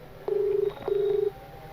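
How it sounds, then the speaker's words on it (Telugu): A telephone call rings back with two steady electronic ring tones, each about half a second long, separated by a short gap, heard clearly over a quiet background. "మొత్తానికైతే రింగ్ అవుతుంది"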